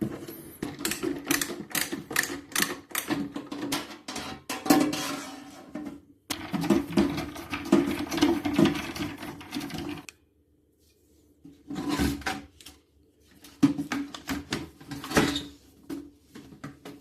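Base screws being undone on a Morphy Richards 48319 breadmaker, with rapid whirring bursts of a small screwdriver or drill in short runs separated by brief pauses, close up with little background noise.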